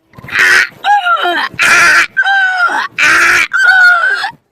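A person mimics a donkey's bray up close, three rounds of rough, rasping breaths alternating with loud nasal honks in a steady hee-haw rhythm, with no other sound.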